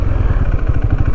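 A KTM 390 Adventure motorcycle's single engine thrums loud and close from onboard during a ride, a steady pulsing beat with a clattery edge.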